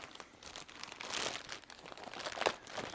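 Shrink wrap crinkles and crackles as it is peeled off a Folded Space board game organizer insert, a close, continuous rustling with sharper crunchy bursts.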